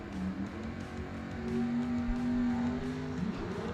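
Engine note of a 1963 Corvette drag racing car at a drag strip, a tonal roar rising and holding with a strong low hum, fairly close and loud over crowd ambience.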